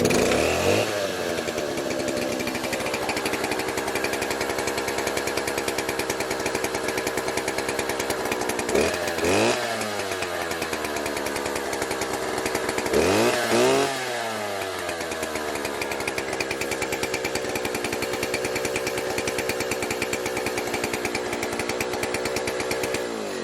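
A cheap knockoff Stihl chainsaw mill runs loud and close, its engine snarling steadily with two sharp revs that rise and fall, no one talking.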